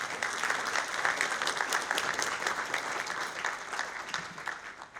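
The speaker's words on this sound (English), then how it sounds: "Everybody give a nice round of applause for Matt." Conference audience gives a round of applause for a speaker being introduced at a cryptography talk, steady moderately loud clapping from a full room that tapers off at the end.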